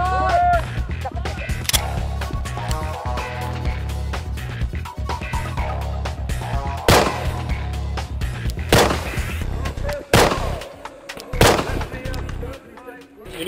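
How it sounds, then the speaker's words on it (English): Gunshots from several calibers fired at a lightweight synthetic armor plate during live-fire ballistic testing, heavy sharp blasts rising out of loud background noise with a few spaced reports. "we're going to shoot the panel multiple times with different calibers"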